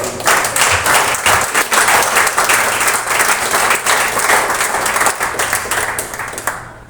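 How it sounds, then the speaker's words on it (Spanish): Applause from a church congregation at a Wednesday service, a dense, steady wash of many hands clapping that fills the space and tapers off near the end. "Aplausos"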